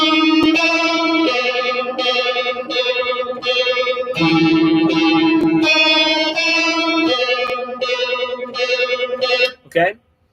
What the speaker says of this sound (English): so that's a secondary guitar part or a harmony part